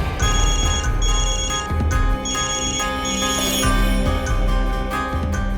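A telephone rings in repeated bursts of a bright electronic tone, with short pauses between rings, loud and close against a low background hum.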